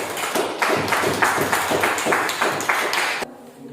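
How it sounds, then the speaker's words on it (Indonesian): A classroom of students in an Islamic religious lesson claps together in steady, loud applause for about three seconds, and the sound then drops off to quiet room tone. "Kita beri tepuk tangan meriah yang sama."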